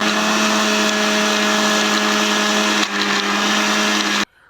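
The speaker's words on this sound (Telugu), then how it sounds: "కొంచెం సాల్ట్ వేసేసుకొని ఇంకా మిక్సీ అయితే పట్టేసుకున్నాను" A mixer grinder whirs loudly and continuously as it blends gongura leaves, garlic and salt for chutney, a steady high motor whine up close that cuts off abruptly near the end.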